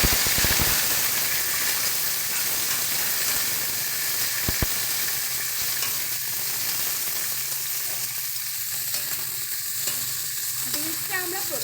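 Green beans frying in hot oil with dried red chillies, bay leaf and nigella seeds, a steady loud sizzle and hiss running the whole time, with a few sharp clatters of stirring near the start and midway.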